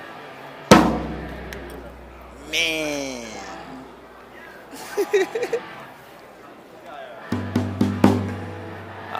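A Dixon full rosewood drum is struck at a busy trade show booth: one sharp hit early, then a cluster of punchy strikes near the end, with people talking between them.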